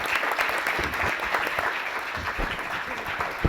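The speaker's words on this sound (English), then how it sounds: "A great round of applause to all the speakers" Audience applause for speakers at a panel event on refugees and far-right politics in Europe, a brief, steady burst of many clapping hands at moderate volume with no pause.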